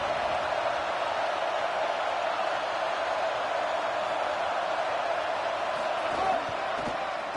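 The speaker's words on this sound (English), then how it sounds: "This crowd ready to make its presence known." A stadium crowd in the video game College Football 27, at a Michigan home game against UCLA, makes a dense, steady roar that holds level throughout, with a commentator's voice over it.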